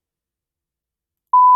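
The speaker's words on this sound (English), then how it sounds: "Oh my goodness, not the beeping." A sudden censor bleep cuts in at the very end after near silence, a loud, steady, pure electronic tone that continues to the end.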